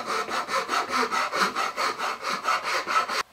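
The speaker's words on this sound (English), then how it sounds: "Just get in there with a file and clean it up." A file rasps over the wooden edges of an intarsia recipe box in about a dozen even back-and-forth strokes, close and steady, stopping abruptly at the end.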